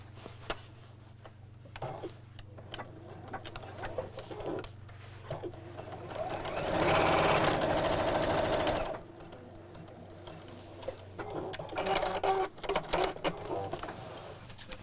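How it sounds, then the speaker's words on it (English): Sewing machine stitching across the fabric of a cross body bag, a steady whirring run of several seconds in the middle, with shorter bursts of stitching and handling before and after. "and sew across."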